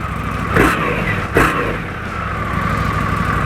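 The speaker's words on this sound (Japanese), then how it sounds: "空冷のエンジンと水冷のエンジンっていうのでだいぶこのサウンドの質は違います。" A Harley-Davidson Street Bob or Indian Scout motorcycle engine idles nearby with a throaty rumble, then is revved in two short, sharp bursts before settling back to idle.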